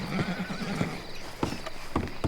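A horse from Red Dead Redemption 2 snorting and whinnying nearby, with soft hoof clops and a few sharp knocks scattered through the short stretch, no speech.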